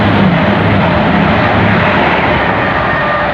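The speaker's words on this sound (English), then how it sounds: "is a 222 Meridian from Nottingham, the Queen of the Midlands, to St Pancras" Class 222 Meridian diesel train from Nottingham to St Pancras speeding past at Hendon on the Midland Main Line, a loud, steady broadband roar of engines and wheels filling the whole stretch.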